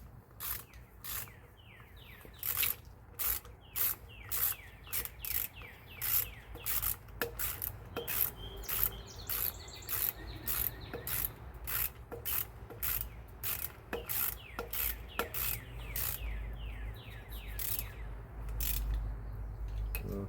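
A hand ratchet tightens a bolt on a 1965 Ford Thunderbird being rebuilt, making a long run of sharp, rapid clicking strokes in quick repeated bursts close to the listener, with a low hum underneath.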